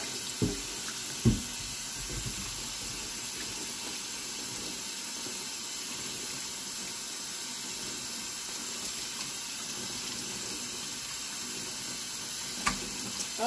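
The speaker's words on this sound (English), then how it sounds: "I usually wash my vegetables with a little bit of soap" A kitchen faucet runs continuously as squash and zucchini are washed beneath it, a steady rushing hiss with a couple of sharp clunks early on and one near the end, with no voices.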